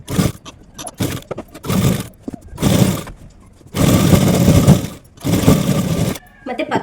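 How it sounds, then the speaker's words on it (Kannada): A sewing machine runs in several bursts of rapid mechanical whirring and stitching as it sews the sleeve of a nighty, close and loud, with short pauses and clicks between runs. "ಮತ್ತೆ ಪಕ್ಕದಲ್ಲೇ ಇನ್ನೊಂದು ಸ್ಟಿಚ್ ಹಾಕೊತಾ ಇದ್ದೀನಿ."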